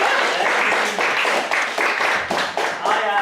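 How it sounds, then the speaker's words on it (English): An audience applauds to welcome speaker Andrew McKnight at a talk on critical intervention team training. Steady, full clapping from many hands carries through the whole clip at close range, with slight surges in intensity. "So please give a big round of applause for Andrew McKnight."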